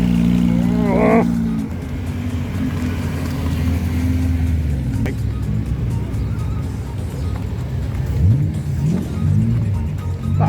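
A V8 car engine revs loudly at a breakfast car run, with a deep steady rumble and rising throttle blips close by, while people talk faintly in the background.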